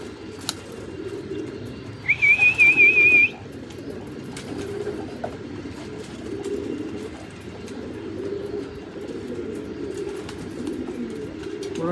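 Pigeons in a loft coo softly against a low steady background rumble, with one brief higher trilling bird call standing out early on.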